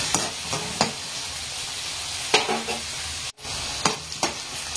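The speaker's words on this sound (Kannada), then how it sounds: "ಲೋ ಎಣ್ಣೆ ಒಳಗೆ ಫ್ರೈ ಮಾಡ್ಕೊಂಡ್ಬಿಡನ್ರಿ ಫ್ರೆಂಡ್ಸ್." Vegetables including carrot fry in a little oil, a steady close sizzle with repeated sharp scraping stirs of a spoon in the pan.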